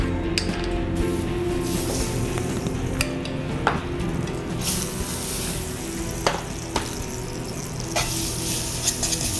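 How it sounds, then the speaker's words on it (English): Salt-and-pepper seasoned beef tenderloin searing in butter in a hot pan, a continuous loud sizzle broken by a few sharp clinks and scrapes as the meat is moved around, with no talking. "we're going to want to get a hard sear all the way around on the tenderloin."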